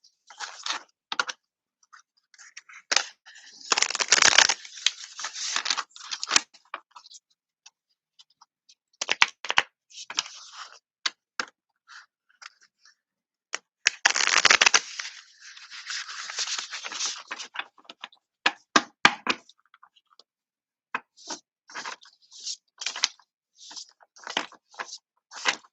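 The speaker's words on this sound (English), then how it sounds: "I'm just going to go ahead and shuffle away and see where we go from there" Wild Unknown tarot deck being shuffled by hand, bursts of papery riffling and soft card slaps in uneven clusters with brief pauses, close and fairly loud, no talking.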